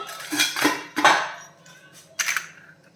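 A lid is placed over a container of string hopper dough, giving a few close metallic clanks and clinks of kitchen utensils in quick separate bursts.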